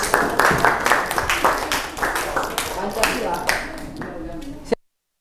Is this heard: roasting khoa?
no